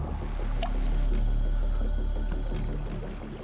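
Water rushes and gurgles steadily, a close, churning flow with low rumbling underneath and occasional splashy drips.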